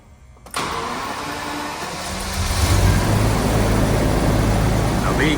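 A Jaguar XJS V12 with fuel injector problems cranks briefly, then catches and starts, settling into a loud, steady, rumbling idle that grows heavier after a few seconds.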